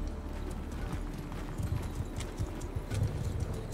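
Horse hooves clip-clop in steady rapid beats in Mount & Blade Bannerlord, a medieval battle game, with a brief whinny and the bustle of troops moving out. The galloping sounds close and fairly loud.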